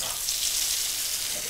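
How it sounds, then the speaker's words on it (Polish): Salmon frying in a hot pan gives a steady, close, bright sizzle that runs without a break from start to finish. "Teraz rybka. Tu się smaży"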